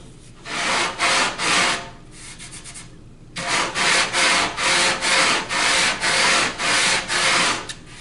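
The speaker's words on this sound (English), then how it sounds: "Give it a light sand" Light hand sanding of a wooden puzzle table: a run of rhythmic, close rubbing strokes, a short pause, then about ten more even back-and-forth passes across the wood.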